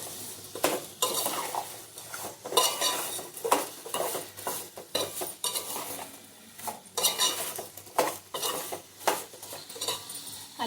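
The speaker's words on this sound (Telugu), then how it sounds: "ఇవన్నీ వేసిన తర్వాత ఒకసారి ముక్కలన్నీ కలుపుకున్నాము." Vegetable pieces being tossed and mixed in a pan with rock salt, a steady run of spoon scrapes and clinks against metal with faint sizzling beneath, close and fairly loud, no talk.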